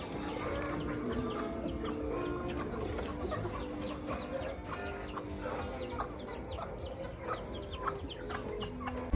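Several chickens cluck continuously nearby, overlapping with a steady background hum and occasional sharper calls.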